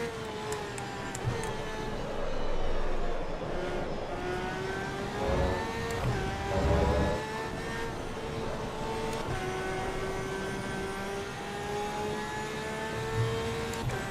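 Porsche race car in the Assetto Corsa racing game, its engine droning steadily at high revs with rising and falling pitch through gear changes, loud and close throughout with no talk over it.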